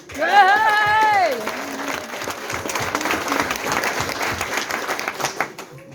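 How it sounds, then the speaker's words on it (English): An audience at a storytelling gathering breaks into loud applause with a few whoops, while a voice calls out over the start; the steady clapping continues for several seconds. "give yourselves all a massive round of applause"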